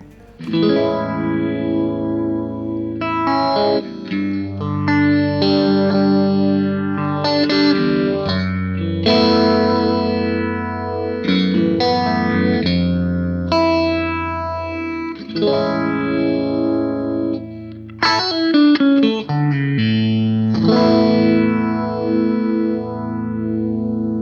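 Electric guitar playing chords and melodic lines through a Boss phaser pedal's swirling, sweeping modulation effect, continuous and fairly loud with no talking.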